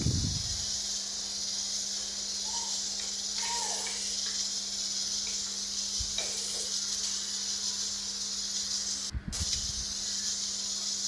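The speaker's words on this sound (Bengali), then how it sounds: "এখন আমি পেঁয়াজটা কিছুক্ষণ ভেজে এরপরেই তো মশলা দিয়ে দিলাম" Onion and spices fry in a pan with a steady, faint sizzling hiss, broken by a few soft stirring knocks, and no one speaks.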